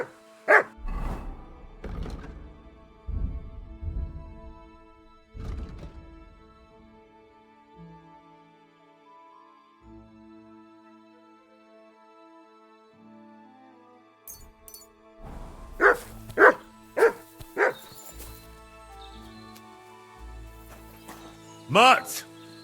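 A dog in Kingdom Come Deliverance 2 barks in two clusters of sharp, loud yaps, several at the start and another quick run near the end, with quieter game ambience and some voice in between.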